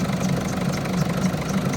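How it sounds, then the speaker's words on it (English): A Ford Fiesta engine, slow to start after sitting unused, ticks over at a steady idle close by, with an even low rumble and no voices. "The engine, although it's hesitant to start, it's ticking over nicely actually"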